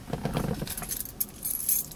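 Car keys for a 1971 Chevelle SS 383 jangle in a quick metallic rattle up close, with soft bumps inside the car.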